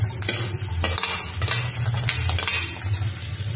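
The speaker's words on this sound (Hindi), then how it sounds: "गाजर और शिमला मिर्च को ज्यादा नहीं भूनना है।" Onion and peas sautéing in a pan for mixed vegetables, with carrots being added: a steady, close sizzle and crackle runs throughout, broken by scraping stirs of a spoon against the pan.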